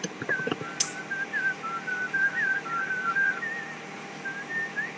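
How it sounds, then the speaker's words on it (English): An eerie, wavering whistle of thin gliding tones drifts on and off in a quiet room, steady and moderately close, with a brief sharp knock near the start and no voices. "The same whistling is right here too."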